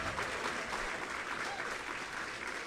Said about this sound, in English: I don't know if you guys can hear all the clapping and cheering, but everyone just got super excited.